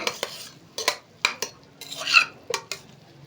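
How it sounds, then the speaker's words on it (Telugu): A spoon stirs chili powder through potatoes frying in a pan, giving a series of distinct scraping clatters at an uneven rhythm, close and fairly loud, over a faint sizzle with no talking. "కారం వేసేసి ఇలా కలిపేసుకోవడమే"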